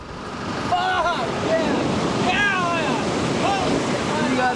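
Huge ocean waves crash continuously along the California coast in a loud, roaring wash, with heavy wind buffeting the microphone and no speech.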